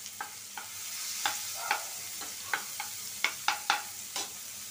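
Onion and chili frying together in a pan, a steady soft sizzle broken by a dozen sharp scraping stirs at irregular intervals, close up with no voices.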